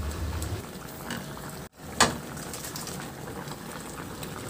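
Coconut milk boils in a pot with a steady bubbling, burbling simmer, quiet and close, briefly cut to silence for a moment and then resuming with a soft pop.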